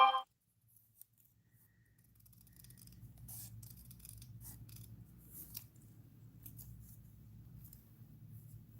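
Scissors trim a paper craft at close range, a few quiet snips and soft rubbing of paper, faint and intermittent against a low background hum.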